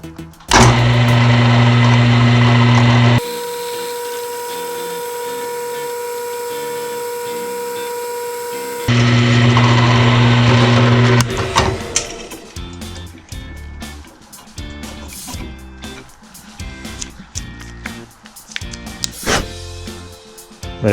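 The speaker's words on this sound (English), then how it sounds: "I'm just going to go ahead and drill this one out" A power drill bores a set-screw hole in a metal sway bar quick-disconnect part, giving a steady loud motor whine that changes pitch partway through, then breaks into irregular grinding and clattering bursts.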